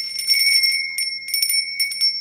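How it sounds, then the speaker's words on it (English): Small bells ringing in repeated bright jingling bursts with clear sustained tones, close and loud, in three clusters separated by brief lulls, with no talking. "Definitely got them bells that help in fine-tuning that frequency"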